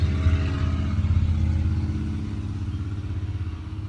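Loud car engine with a motorcycle-like note, a close rumbling idle that pulses and clatters steadily, easing slightly toward the end, with no talk over it.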